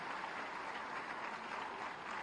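A hall audience at a women's award ceremony gives a dense, continuous round of applause, heard faint and somewhat distant throughout the short moment.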